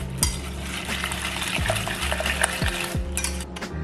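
Wet mixing of oats, maple syrup and water in a bowl, with liquid sloshing and a few scraping strokes of a utensil, close up and fairly quiet.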